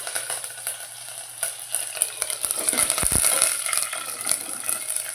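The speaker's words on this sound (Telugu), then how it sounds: "పోపు అయితే చక్కగా వేగిపోతుంది" Mustard seeds, spices and curry leaves tempering in hot oil in a pan, a steady close sizzle and crackle with some stirring, with a few sharper pops near the middle and no voices.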